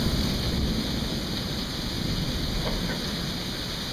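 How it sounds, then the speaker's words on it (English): A torrential thunderstorm downpour pounds steadily and loudly, a dense unbroken hiss of heavy rain with no voices. "this has been a torrential downpour"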